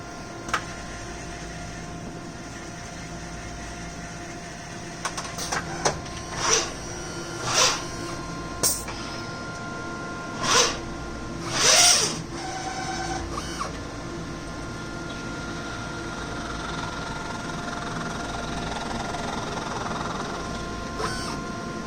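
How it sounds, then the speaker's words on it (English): A DEK Horizon 02i screen printer runs a print cycle, its steady mechanical hum broken by several sharp clicks and brief pneumatic hisses as the squeegee travels across the stencil. "We'll run it the other direction, and then we'll do a screen clean."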